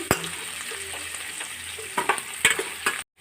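Shavige noodles being stirred with turmeric in a frying pan, scraping and clinking under a steady soft sizzle, with a few sharper knocks of the spatula before stopping abruptly.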